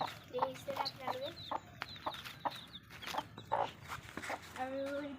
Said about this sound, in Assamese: এই পোৱালিকেইটা নেদেখ এইকেইটা পোৱালি দেখিছে আপোনালোকে।